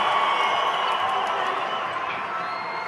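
An arena crowd at a lucha libre wrestling match featuring Negro Casas applauds and cheers the wrestlers, a steady wash of clapping and voices that fades slightly toward the end.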